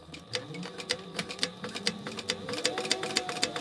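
Sewing machine stitching fabric for a gingerbread house gift holder, a steady rapid ticking of the needle with a soft motor hum underneath, fairly quiet and close.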